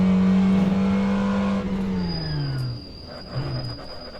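A race car in the rFactor 2 sim holds a loud engine tone that drops as it brakes hard, pitch sliding down with a rough pulsing ABS chatter, followed by a short quieter blip near the end.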